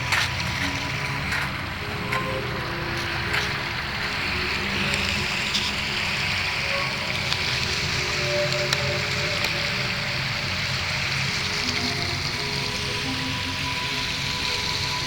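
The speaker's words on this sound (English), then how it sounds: "There's a creek right here." A creek flowing at night beside a road near a bridge, a steady close trickling and rushing of water that goes on without a break and without talk.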